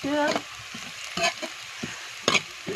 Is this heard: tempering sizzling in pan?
yes